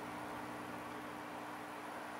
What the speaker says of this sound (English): any noise that you hear is from the pump for the